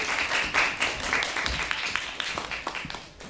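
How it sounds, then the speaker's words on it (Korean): An audience claps at a film academy's opening-night screening event. The applause is a short burst of close, crisp, scattered claps that thins and fades away over about three seconds. "박수 부탁드립니다."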